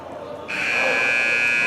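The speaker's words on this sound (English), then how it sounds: "Buzzer sounds, both teams come out." At a Benedictine vs Villa Angela-St. Joseph high school basketball game, an arena buzzer cuts in suddenly after a quiet murmur and holds as a loud, steady electronic drone.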